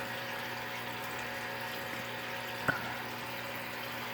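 Small indoor water fountains run on top of a water heater in a house, giving a steady trickling, bubbling pump hum with one brief sharp click partway through, no talking.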